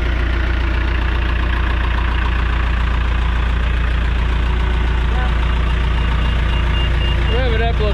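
A John Deere 455G crawler loader's engine runs loud and steady close by, with a rising rev near the end as the throttle is opened, while voices talk over the diesel rumble.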